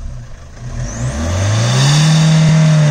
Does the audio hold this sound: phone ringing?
no